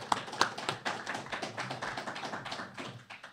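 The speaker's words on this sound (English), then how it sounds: "Let's round of applause for him." Audience applause for a sponsor at a hurling league preview event, a scattered patter of claps with a few sharp nearby hits, moderately loud and continuous, no talk over it.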